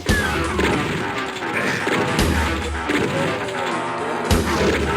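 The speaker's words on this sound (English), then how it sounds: "It's that one game where you shoot at demons to the soundtrack that goes" Heavy, pounding soundtrack from the demon-shooting game Doom, with crashing, booming hits repeating at a steady pace. Loud and dense throughout, with no voices.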